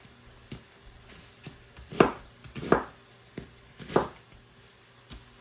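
An onion is chopped with a knife on a cutting board: a few sharp, close knife strikes come a beat apart, with quieter taps between, and no one speaks.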